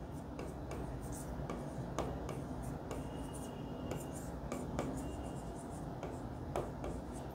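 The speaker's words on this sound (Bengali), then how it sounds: "আচ্ছা আমি লিখি তাহলে ভালো হবে তোমাদের জন্য।" A pen writes on a board or paper during a logic class, making a run of short, dry scratching strokes and taps in an irregular rhythm, with faint voice sounds in the background.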